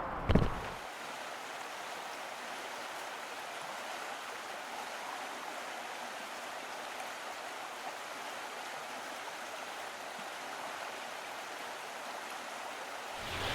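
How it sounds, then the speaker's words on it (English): Water bubbles out of the top of a stacked slate sphere fountain in a backyard, a steady soft wash of splashing that runs unbroken throughout. "you've got the water that's bubbling out the top without creating an enormous backdrop"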